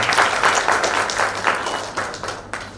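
A crowd at a World Red Cross and Red Crescent Day event applauds the teachers, a short burst of close, rhythmic clapping that fades out after a few seconds.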